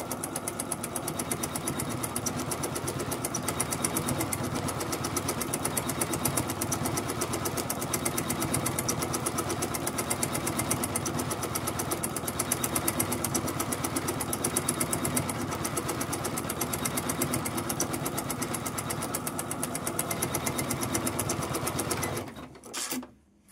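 A 450 model sewing machine runs and stitches continuously at a steady fast whirring rhythm, close and loud, before stopping abruptly at the end.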